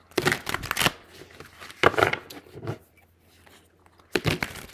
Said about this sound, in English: Give these a good ruffle shuffle.